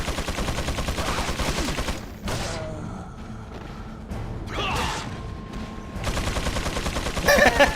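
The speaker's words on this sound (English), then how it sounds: "Dude, why are you firing a minigun at me?" Rapid, continuous minigun fire in Resident Evil 4, a loud rattling stream of shots that cuts out, pauses amid quieter impacts and crashes, then resumes in dense bursts, with brief talk.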